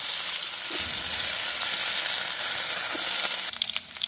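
Potatoes sizzle in hot oil with dry red chillies and two bay leaves, a steady broadband fry hissing close by, with a few faint clinks and stirring knocks near the end.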